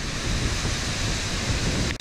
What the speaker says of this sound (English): This wind needs to back off because something's gonna give.